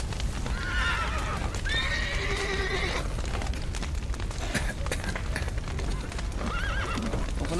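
A horse in The Witcher 3: Wild Hunt whinnies loudly several times over steady clip-clopping hooves, with game-like background rumble throughout.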